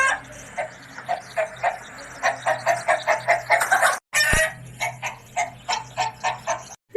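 A chicken clucks in a quick series of rhythmic, close calls, with a brief break midway before the clucking resumes.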